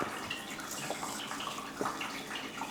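Cherries plopped into a metal strainer while making cherry turnovers, giving a few soft wet splashes and drips over a steady watery hiss, fairly close.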